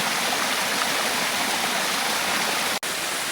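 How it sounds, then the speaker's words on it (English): A waterfall at Rainbow Springs State Park, Florida, roars as a dense, continuous rushing wash, loud and close, cut by one brief dropout near the end with no voices. "there waterfalls in Florida? I guess there are."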